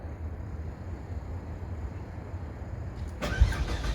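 A turbocharged Ford FG Falcon engine cranks over on the starter for about three seconds, a steady low churning rumble near the car, with a sharper burst of noise toward the end.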